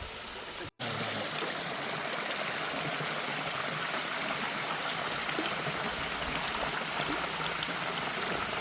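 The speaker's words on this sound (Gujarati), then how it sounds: "તો મિત્રો આ છે અંધારી ધોધ." Steady, loud rush of flowing water at Andhari waterfall, a stream tumbling into the falls, continuous and broadband after a brief dropout near the start.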